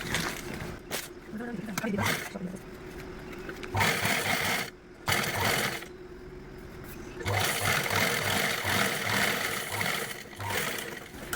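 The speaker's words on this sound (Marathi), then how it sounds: "यावरती आपण टॉप स्टिच देऊन घेऊया" A sewing machine top-stitches a folded fabric edge in several separate runs of rapid, close mechanical stitching, broken by short pauses, with a voice talking over parts of it.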